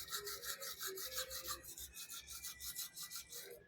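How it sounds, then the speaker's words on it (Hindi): Someone brushes their teeth with a toothbrush, a quiet rhythmic scrubbing of fast back-and-forth strokes that runs steadily and close up, with no talk. "वॉकिंग करने के बाद अब मैं ब्रश कर रही हूँ।"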